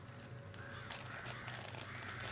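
A flock of birds in a Doctor Who episode, heard as crow-like cawing over a steady dense background that swells slightly toward the end.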